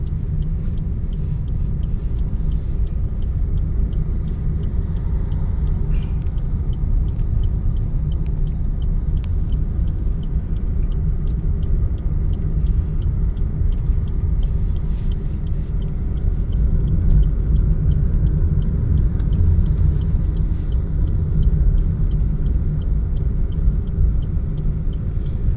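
A car hums along steadily during a driving lesson, with a continuous low engine and road rumble inside the cabin and occasional faint clicks, no speech.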